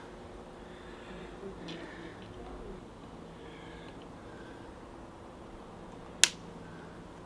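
A single sharp crack near the end, loud and brief, following a quiet stretch with faint rustling and handling sounds.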